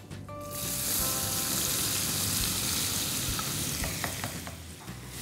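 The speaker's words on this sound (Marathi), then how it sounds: "कढीपत्त्याचा छान वास आला की ह्याच्यामध्ये टाकूया बारीक चिरलेला कांदा" Finely chopped onion dropped into hot oil with curry leaves bursts into a loud, continuous sizzle right up close, with a few faint clinks of stirring later on and no talking.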